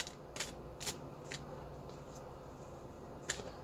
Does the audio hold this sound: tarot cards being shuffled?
yes